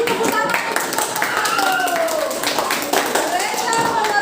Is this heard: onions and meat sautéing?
no